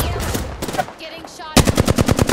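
Automatic weapon fire in the shooter game Apex Legends, Season 14: a burst early on, a brief lull, then a loud, rapid run of close shots to the end.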